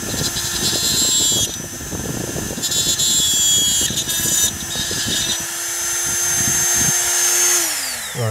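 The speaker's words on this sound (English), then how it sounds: "I'm going to take my Dremel with one of those little cutter bits, and I'm going to grind those little tabs off" A Dremel rotary tool fitted with a small cutter bit grinds tabs off a diecast model car, a loud high-pitched whine that dips and rises as the bit bites, then winds down near the end.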